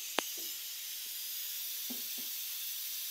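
A pressure cooker holding brinjal curry gives off a steady, close hiss of escaping steam that lasts the whole time, with a few faint clinks and thumps in the kitchen.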